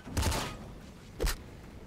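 Smart gun firing in the roguelike video game Nuclear Throne, two short bursts of rapid electronic gunfire about a second apart over a low game background hum.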